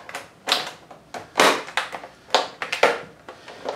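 A series of sharp plastic snaps and pops from case clips releasing on a Lenovo ThinkCentre Edge 92Z, some single and some in quick pairs, close by and spread unevenly over a few seconds.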